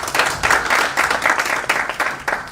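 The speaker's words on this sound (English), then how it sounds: "let's give a good round of applause to Honorable Ndindi" An audience at a stakeholders' breakfast meeting at a Sarova hotel gives a hearty round of applause for MP Ndindi Nyoro. Many hands clap close and loud in a dense, steady burst that lasts throughout.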